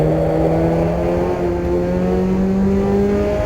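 A Puma PO52 engine held at redline in third gear on the Nordschleife gives a loud, sustained high-revving drone with a steady, nearly unchanging pitch, heard close up and alone.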